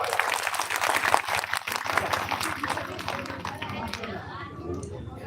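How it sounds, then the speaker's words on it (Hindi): A crowd at a large religious gathering claps in welcome, a dense, steady round of applause with voices mixed in throughout. "ताली बजा के जोरदार स्वागत।"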